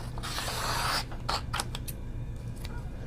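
An airbrush sprays paint in a steady hissing burst for about a second, followed by a few shorter spurts over a low background hum during a live painting session.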